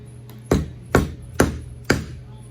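A power steering pump part is tapped down with a hammer during assembly on a Case 188D tractor: four sharp, evenly spaced metallic knocks, close and clear over a faint steady hum.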